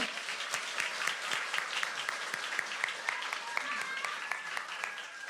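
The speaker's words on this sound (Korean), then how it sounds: "뜻해서 축복의 박수하도록 하겠습니다" A congregation at a Christmas service applauds as a blessing, a dense, sustained clapping from many people with crisp hand strikes throughout, fairly loud and continuous with no talk.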